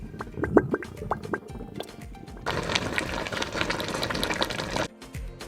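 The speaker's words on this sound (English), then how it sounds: "The operational activities of the fridge can sometimes produce a boiling or gurgling sound, which is completely normal." Refrigerator gurgling as refrigerant flows through the coils: a few soft bubbling pops at first, then a steady, fairly loud watery gurgle and rush that runs for a couple of seconds before stopping abruptly.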